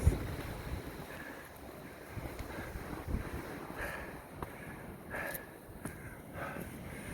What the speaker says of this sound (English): Oh, right on cue. There's the wind.